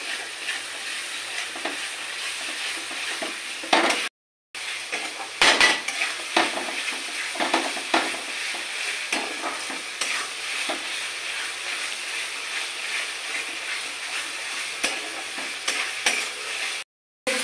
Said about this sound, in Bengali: মশলাগুলো আমি একসাথে ভালোভাবে কষিয়ে নেবো।